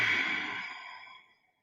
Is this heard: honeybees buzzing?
no